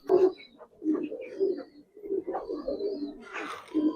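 Giribaz pigeons, a silver and old-line breed, coo in a close series of low rolling calls with short gaps between them, and a brief higher flutter or chirp comes near the end.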